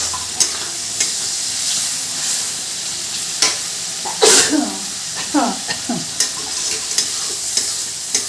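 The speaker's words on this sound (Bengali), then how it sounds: "জাস্ট একটু নাড়াচাড়া দিয়ে নিতে হবে চিংড়িটা" Shrimp stir-fried in a kadai sizzle steadily up close while a spatula clanks and scrapes at intervals, joined midway by a cough and throat clearing and a little voice.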